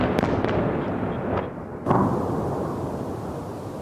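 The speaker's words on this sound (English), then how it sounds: "Explosions in Kyiv, where officials say at least 4 people died." Explosions boom over Kyiv during a Russian overnight aerial attack of missiles, with a sharp blast followed by a heavy, sustained rumble and several smaller thuds before it.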